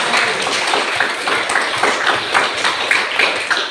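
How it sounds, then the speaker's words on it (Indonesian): Students in a classroom clap together in a steady, dense patter, close and fairly loud throughout, with no voices over it. "Tepuk tangan dulu peserta didik"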